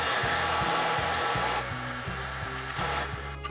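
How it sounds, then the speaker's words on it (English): A belt grinder with a small wheel attachment cleans up the edges of a knife blade after the scales are removed, giving a steady loud abrasive hum with rhythmic grinding passes roughly every half second. "I can mark it out a little bit more accurately and then clean up everything on the belt"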